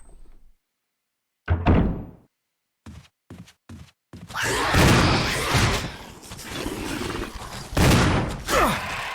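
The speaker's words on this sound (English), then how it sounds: "We're gonna use the assault shotgun on them." Assault shotgun fired at hunters in the Resident Evil REmake video game, a few sharp booming blasts separated by silence, followed by a stretch of loud, dense game action noise.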